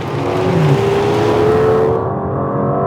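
A 690bhp Aston Martin V12 Vantage accelerates hard on a track, its V12 engine loud and close with a rising, sustained roar that eases near the end.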